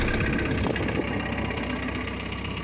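A Ford 8N tractor engine runs steadily at idle with its PTO shaft spinning, a close, continuous low rumble with a faint mechanical knock and vibration throughout.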